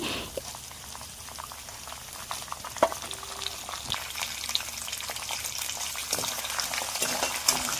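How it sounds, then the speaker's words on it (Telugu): Peanuts, urad dal, dried red chilies, ginger and curry leaves fry in hot oil in a pan, giving a steady close sizzle and bubbling with occasional clicks and stirring scrapes. "ఇవన్నీ కూడా వేగుతున్న పల్లీలతో పాటు వేయించుకోవాలి"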